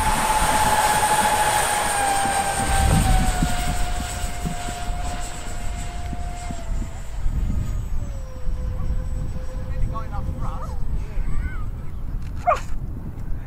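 A 3D-printed LW-PLA F-14 Tomcat model jet on its maiden flight passes overhead with a loud whining engine whose pitch slowly drops as it flies by, over outdoor wind noise and a brief dog bark.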